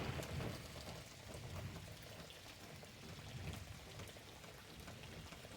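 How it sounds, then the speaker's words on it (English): Heavier rain during a thunderstorm, a soft continuous hiss of falling drops that holds steady throughout, fairly faint and distant with no talking. "here comes a little heavier rain"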